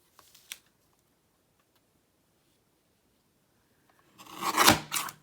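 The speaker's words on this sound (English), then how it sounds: "We can cut it vertically at 3 inches." Designer series paper being cut on a paper trimmer, a short blade-slicing rasp that rises near the end after a small tap and a long quiet stretch, close and fairly loud, with no talking.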